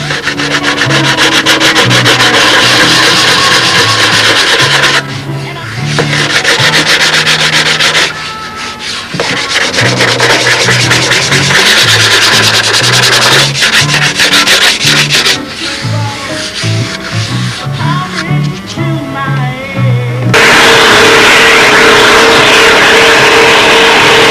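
Steady hand sanding, loud repeated rubbing strokes against a surface that continue for a long stretch with only brief pauses.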